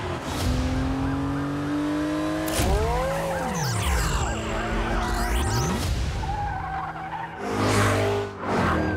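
Cars race through a chase scene in the film Transformers: Rise of the Beasts, tires squealing and skidding over loud revving engines and a swelling orchestral score, with several sharp screeches and passing roars throughout.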